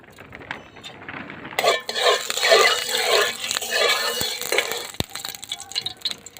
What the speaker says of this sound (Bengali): দিয়ে দেবো কালো জিরে